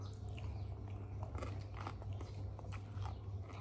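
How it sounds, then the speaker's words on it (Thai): Crunchy food is chewed close by in soft, irregular crunches over a low steady hum, with no voices. "เคี้ยวดังกรุบกรุบ"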